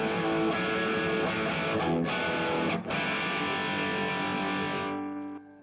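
Sustained, mildly overdriven electric guitar chords through a clean AC30 amp ringing out steadily, a few strums changing midway, then fading to quiet at the end.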